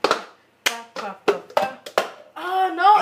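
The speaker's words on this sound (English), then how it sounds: "Clap, move, clap. Turn cup, hit cup, and down this and one." Hand claps and plastic cup taps and slides from a cup song, sharp close percussive hits spaced in a rhythmic pattern, followed by a voice singing or humming at the end.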